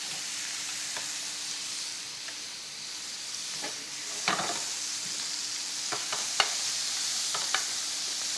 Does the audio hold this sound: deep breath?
no